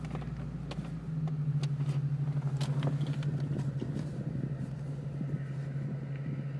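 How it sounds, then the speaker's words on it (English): A car passes close by outdoors with a steady low engine rumble that swells and holds, with faint creaks and no talking. "wait till this car goes by"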